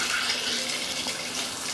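Water runs steadily from a condo bathtub faucet fitted with a shower diverter, a constant broadband hiss that holds close and even, with no voices over it.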